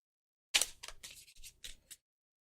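Playing cards being shuffled back into a deck during a tabletop game session, a few quick riffling bursts over about a second and a half, close and fairly quiet with no talk.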